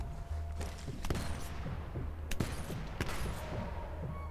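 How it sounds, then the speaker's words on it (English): Gunfire aimed at the player in the video game Sniper Elite 4, scattered sharp cracks over a low rumbling ambience, some distant and a few louder, irregularly spaced with no talking. "Who's shooting me?"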